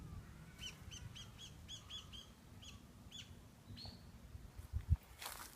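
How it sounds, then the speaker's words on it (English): Outdoors in Japan, a few birds chirp in quick repeated bursts of bright calls over a low background rumble, followed by a brief louder rustle at the close. "There are a couple chirpy birds too"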